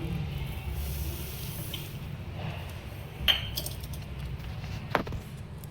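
Sugar is stirred into kheer in a pot, with two sharp spoon clinks against the metal, spaced apart, over a low steady background hiss.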